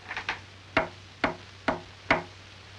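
A sharp knocking on a door, two quick light taps followed by four louder, evenly spaced raps, heard close and clear with no talk over them.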